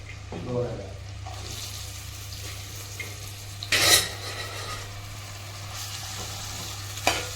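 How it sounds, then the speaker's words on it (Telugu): Chopped onions fry in oil in a pan with a soft continuous sizzle, punctuated by a few sharp stirring scrapes and clinks of utensil against the pan, recorded close and quiet. "ఇప్పుడు కట్ చేసుకున్న ఉల్లిపాయలు వేయించుకోవాలి."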